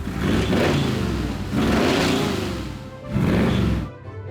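A Chevrolet Corvette engine revving in three long blips, each swelling to a loud rasp and falling back to idle, heard up close with no talking.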